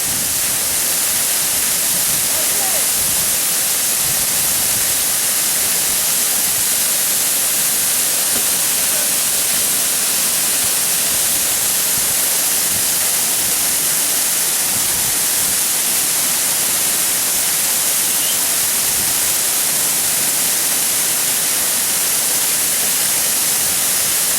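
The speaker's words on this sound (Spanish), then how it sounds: "Y esta es una pasada, una auténtica locura de agua." Water rushes and crashes down a waterfall in a canyon in Galicia, a loud, unbroken hiss of spray and churning flow filling the whole stretch without any voices.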